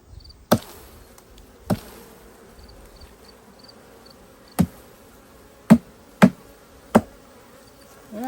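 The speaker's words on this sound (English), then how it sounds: "you can see it does rile up the bees, all that clanging and banging" Honey bees buzzing in a steady, faint hum as a frame is shaken during honey harvest, punctuated by six or so sharp metallic clangs and bangs at irregular intervals.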